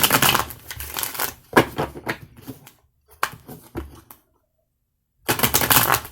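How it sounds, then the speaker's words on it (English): A deck of oracle cards being shuffled by hand for a pick-a-card tarot reading, giving dense papery riffling bursts that stop, resume in short flurries, then return loudly after a silent pause. "it's a really easy deck to shuffle"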